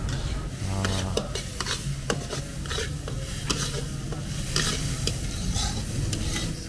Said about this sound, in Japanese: そしてあの音は、あ、チャーハンだ。